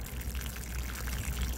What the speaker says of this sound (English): So here we have the potting soil. We're gonna do the same thing. Just add water, all right?